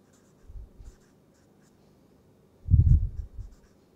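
Chalk or marker strokes on a lecture board come in two short bursts, a brief one then a longer scratchy run, fairly close in a quiet room.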